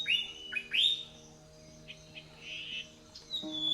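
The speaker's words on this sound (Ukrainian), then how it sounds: "діти, це голоси птахів." Several birds chirp and whistle at moderate distance, bright tweets coming in short bursts over a faint steady hum.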